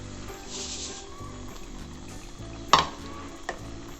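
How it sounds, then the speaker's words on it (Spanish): Sugar is stirred into melted butter in a pan over low heat, giving a soft continuous scraping and gentle sizzle, with one sharp clink of a utensil against the pan near the end. "Vamos a revolver bien."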